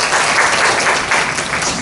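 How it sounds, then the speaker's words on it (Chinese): A seminar audience in Taichung applauds, a loud continuous burst of many hands clapping that holds steady without a pause. "给他鼓掌一下好不好？"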